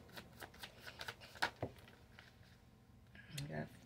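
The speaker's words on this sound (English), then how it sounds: "Let me pull from the Moonology deck." Cards from a Moonology oracle deck are shuffled with a run of quick, close riffling flicks and then pulled, faint sliding and tapping as a person talks quietly.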